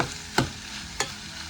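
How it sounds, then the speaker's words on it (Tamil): Dried fish, garlic and green chillies fry in coconut oil, giving a steady close sizzle broken by two sharp stirring scrapes. "இப்போ பச்சை மிளகாயும் சேர்த்து எல்லாத்தையும் கொஞ்சம் பொரிப்பட விடுவோம்."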